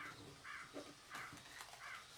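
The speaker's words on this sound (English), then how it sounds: "Did you hear the crow?" A crow caws four times at a steady spacing, each call a harsh, clear note heard fairly close against a quiet outdoor background.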